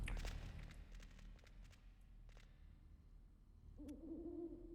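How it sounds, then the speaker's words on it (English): Owls hoot softly in a game scene, a few low calls near the end over a steady background of ambient rumble and faint rustling. "And are these owls? I hear hooting."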